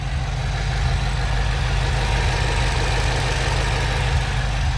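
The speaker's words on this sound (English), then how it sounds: "in the Shelby you got this big old Voodoo V8" A 2019 Ford Mustang Shelby GT350's Voodoo V8 engine idles steadily, a deep, continuous low rumble with a rough pulsing texture, loud and close, with no voices.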